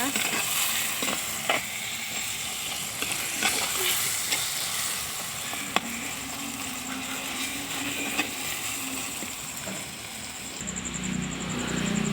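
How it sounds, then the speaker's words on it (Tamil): Spices, curry leaves, salt and turmeric sautéing in a clay pot: steady sizzling and frying with occasional stirring scrapes, close up, no talking. "கருவேப்பிலை உப்பு மஞ்சத்தூள் மூணுமே போட்டாச்சு நல்லா வதக்கிக்கோங்க"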